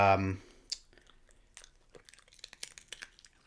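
A short voice at the start, then a pet crunching on crisp banana chips close up, with irregular crunchy bites continuing steadily.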